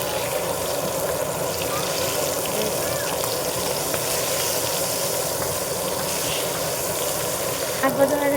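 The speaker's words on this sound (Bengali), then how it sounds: "মাছ ভাজা হয়ে গেছে, আমি নামাই নিলাম।" Pieces of mrigal fish frying in hot oil, a loud continuous crackling sizzle with a few spatula clinks near the end.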